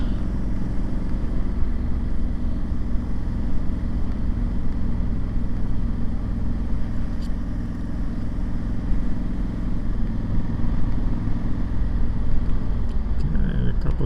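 Cars driving up a mountain road near Bergen, heard as a steady, loud engine and road rumble that holds throughout, with voices over it.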